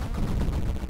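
Cannon on a plane in the Luftrausers arcade shooter, its fire interval cut to the minimum, pours out a continuous, dense stream of shots with no gaps, loud and unbroken for the whole second.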